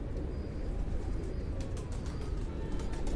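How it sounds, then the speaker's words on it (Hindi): Pure Dub breeder pigeons cooing, with low, steady coos and occasional faint chirps over a continuous low rumble of background noise, close and fairly quiet throughout. "बड़े ही खूबसूरत कबूतर हैं जी"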